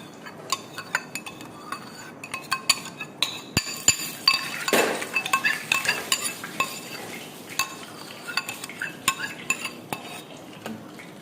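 A spoon clinks steadily against a metal pot while cream and sugar are stirred into boiled milk, with frequent close, bright scraping taps and no talk.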